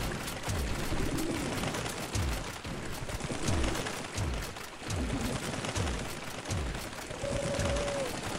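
Pigeons coo in the Pigeon Park bonus round of Big Buck Hunter Arcade while regular gunshots crack every second or so, the soft coos surfacing between the shots and a longer coo near the end.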